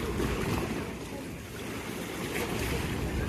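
Water churning and waves washing against a boat heading out onto the Venice lagoon, a steady broad rush with wind buffeting the microphone throughout, no voices.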